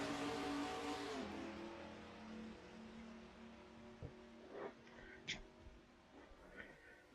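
Race truck engines roar on a track in a video game at the green flag, loud at first and then fading into a lower drone. A few brief rising revs come later.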